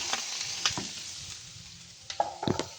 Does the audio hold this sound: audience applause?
no